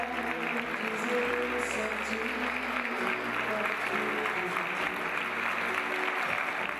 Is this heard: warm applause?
yes